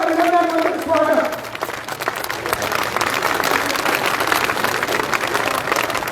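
A crowd applauds to welcome a BJP candidate at a rally in Malkheda, Haryana. Steady, dense clapping fills the whole stretch, with a voice speaking over the first second or so.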